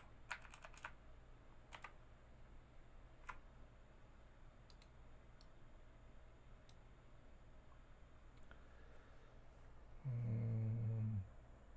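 Computer keyboard keys pressed in a few quick scattered clicks, faint and close, over a low room hum, followed by a brief louder burst near the end.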